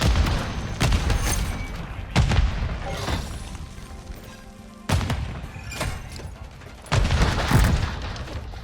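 Gunfire in the video game Call of Duty: Modern Warfare III: loud, close bursts of rapid automatic fire in four or five separate volleys, with short gaps between them.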